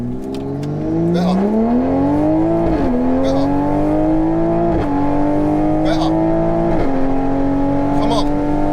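A stage 3 760hp Toyota Supra accelerates hard down a drag strip, its engine note climbing loud and close through several gear changes with brief dips at each shift, a voice heard faintly under the roar.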